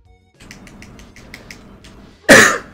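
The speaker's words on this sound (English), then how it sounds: "Can't even cough." A person lets out one loud, harsh cough right at the end, after a stretch of soft, steady, rhythmic ticking.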